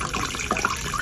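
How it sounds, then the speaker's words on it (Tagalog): Water is poured into a cooking pot holding glutinous rice and chicken for arroz caldo, giving a brief splashing, gurgling trickle at close range. "maglalagay na rin tayo ng tubig"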